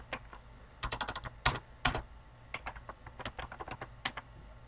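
Keys on a computer keyboard are typed in short, uneven bursts of clicks, close and moderately loud, with brief pauses between words and no talking.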